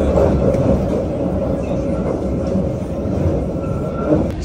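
London Underground Piccadilly line train running, a loud, steady rumbling roar of wheels and carriage noise filling the space, with faint sounds of people nearby.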